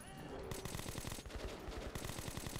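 Rapid automatic gunfire in Metro: Last Light Redux comes in fast, evenly spaced bursts, with a short break near the middle and near the end. The shots are close and harsh and fill the clip.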